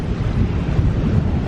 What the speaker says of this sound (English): This surf spot boasts fast, barreling left-hand waves over a shallow reef.